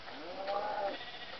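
A sheep in a survival video game bleats once, a wavering mid-pitched call lasting about half a second over a steady hiss.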